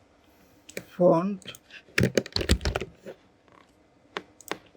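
Someone types on a computer keyboard in short bursts of quick, close clicks separated by pauses, with a brief spoken word in between.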